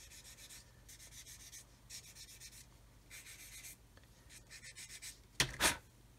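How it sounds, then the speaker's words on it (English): A 1000 grit sanding sponge is rubbed over the edge of a 1/72 plastic U-boat model kit part in short, repeated strokes. The soft, rhythmic scratchy passes are close and fairly quiet, and a sharper brief scrape comes near the end. "we can just go over this with a 1000 grit sponge, just to make sure everything's nice and tidy"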